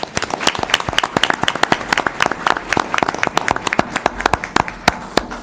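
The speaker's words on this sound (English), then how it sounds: "Let's give you a nice round of applause first" Scattered claps from a small audience at a Dayton City Commission meeting, individual hand claps sharp and uneven in rhythm, moderately near, with no voices over them.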